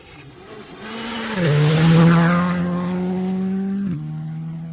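A Skoda rally car blasts through a special stage of the Adelaide Hills Rally, engine rising loud and close with a sharp gear change, then holding a strong steady roar as it passes.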